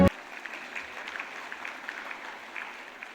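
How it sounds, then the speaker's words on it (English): Polite, steady applause from an audience at a business awards ceremony for Fiji Ports, moderately distant and even, lasting a few seconds after a brief sharp bump at the start. "can we give Fiji Ports another big round of applause?"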